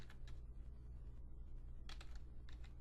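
Typing on a computer keyboard, heard as faint, sparse clusters of key clicks over a low steady hum in a quiet room.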